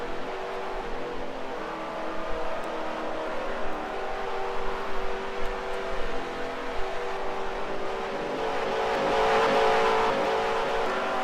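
A car in Second Life drives steadily along a highway, its engine a continuous mid-level drone with slight swells in revving and a rising surge near the end, no voices over it.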